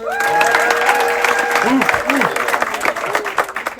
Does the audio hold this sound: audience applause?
yes